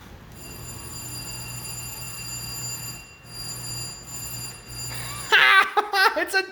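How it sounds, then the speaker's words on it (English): An old-fashioned doorbell rings indoors with a sustained bright metallic tone in several bursts separated by brief gaps, then a voice breaks in at the end. "It's a doorbell"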